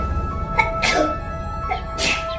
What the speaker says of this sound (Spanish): el muchacho estornudó 7 veces